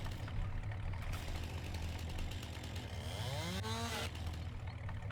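A chainsaw in Farming Simulator 19 trims trees, its engine droning steadily and loudly throughout while a rising whine sweeps upward near the end.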